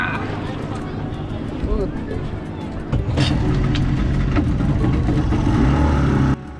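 Boat engine on the ride to Kulaba fort, a mid-pitched motor drone with water wash, rising and thickening as the boat gets under way, under a hubbub of passenger chatter until it cuts off abruptly near the end.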